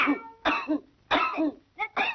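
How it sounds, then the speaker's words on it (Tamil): A series of raspy coughs, close and fairly loud, coming in separate clusters with brief pauses between them. "என்ன இருமல்?"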